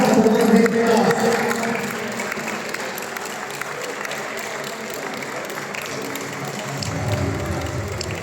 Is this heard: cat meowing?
no